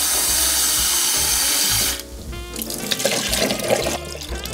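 Water runs steadily into a kitchen sink while a flannel coffee filter is rinsed by hand, first a loud even stream, then a rougher splashing flow with clinks and rattles nearby.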